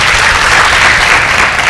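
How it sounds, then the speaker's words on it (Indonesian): Loud, dense studio audience applause for a doctor on an Indonesian health talk show, steady and continuous clapping that fills the whole moment without a break. "Tepuk tangan buat Dokter Daniel"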